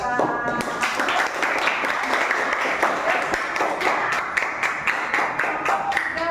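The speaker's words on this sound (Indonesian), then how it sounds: "Tepuk tangan buat" Classroom applause for a student presenter during a school performance assessment: a steady patter of hand claps from a small group of classmates, fairly close, with a brief voice at the very start.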